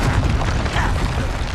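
A Confringo fire spell blasts in the Hogwarts Legacy video game, a loud, dense booming burst that rumbles continuously through the short moment with no speech over it.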